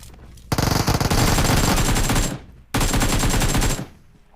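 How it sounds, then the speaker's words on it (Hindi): Rapid automatic gunfire from an AKM rifle in the BGMI battle royale mobile game, two loud, close bursts of dense repeated shots separated by a brief pause. "पास में गन साउंड आ रहे होते हैं"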